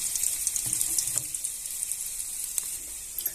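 Chilli, cumin and garlic fry in hot oil for a village-style masvadi, giving a soft, steady sizzle with scattered small crackles and pops, fairly quiet and close, with no talking.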